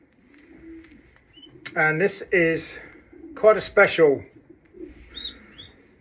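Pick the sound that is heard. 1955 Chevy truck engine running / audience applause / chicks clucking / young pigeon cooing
young pigeon cooing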